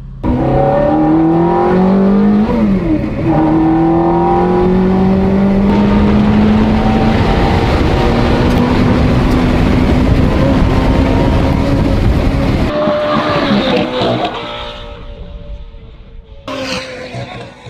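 A Ferrari making a timed run on a track, its loud engine note climbing steadily in pitch for about twelve seconds before abruptly dropping away, followed by quieter, fainter revving toward the end.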